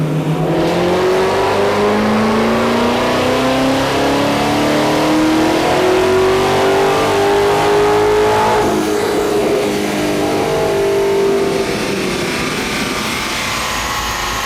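A Hennessey-tuned car revs at full throttle on a dyno before delivery, its loud engine note climbing steadily in pitch for about twelve seconds and then easing off, sustained and close without talk.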